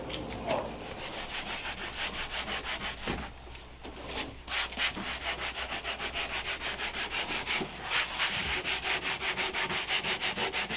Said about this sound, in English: So you're using a gray Scotch pad and not a green one like I use